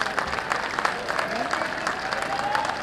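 Audience applause greeting a guest at an engineering college cultural festival, a steady wash of clapping that runs through the whole stretch with voices mixed in.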